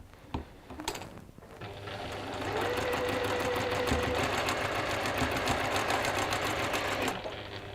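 Sewing machine stitching two fabric pieces together, starting with a few clicks and handling noises, then running in a fast, steady mechanical rattle for several seconds before stopping.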